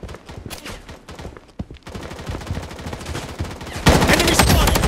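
Rapid gunfire from the shooter game Project BloodStrike crackles in dense bursts, automatic fire rattling close and loud, then a louder, harsher barrage near the end.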